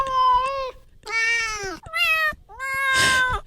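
A cat meows four times in a row, long drawn-out plaintive calls close to the listener, with short pauses between each and no talking over them.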